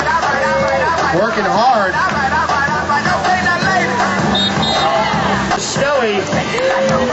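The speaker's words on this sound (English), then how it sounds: "The crowd seems to show their appreciation for Butter." Rodeo crowd at the USNWC cheering and whooping in appreciation, a loud, dense mix of shouts and chatter running throughout, with a voice speaking briefly over it.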